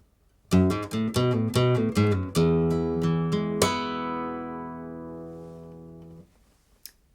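A plucked flamenco guitar plays a quick run of bright notes in an Alegrías phrase, then lets a final chord ring out and fade slowly.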